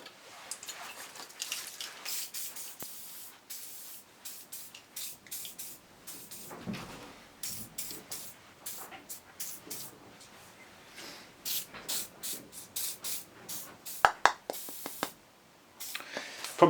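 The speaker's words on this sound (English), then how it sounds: "So I'll give it a bit of a spray." Bursts of aerosol spray hissing in short and longer blasts onto a Lucas M35J starter motor, close by, with clunks and handling noises between them.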